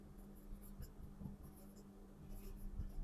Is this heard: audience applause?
no